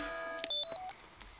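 A mobile phone rings in a cinema, a bright electronic ringtone of stacked tones and quick beeps lasting about a second before cutting off abruptly.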